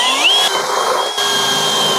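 A power drill with a spot weld cutter bores holes in a Toyota Corolla body panel in a garage, a steady loud whine with a brief pitch rise near the start, running continuously for two seconds with no talk.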